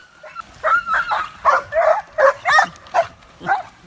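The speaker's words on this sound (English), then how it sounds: "watch how these dogs reacted thinking he was in trouble" Dogs at a lake bark and yelp excitedly as a man swings into the water, about eight loud, close barks in a quick uneven rhythm with whining tones between them.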